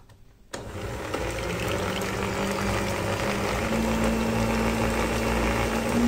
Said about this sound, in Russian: Опять взбиваем.